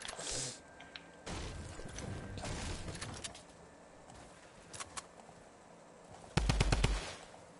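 Gunfire in a shooter video game: scattered distant shots and clicks, then a near, loud rapid burst of about six shots in quick succession toward the end.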